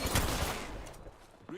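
Enemy gunfire in a shooter video game: a dense burst of loud shots up front that thins into scattered rattling, with a brief sharp crack near the end.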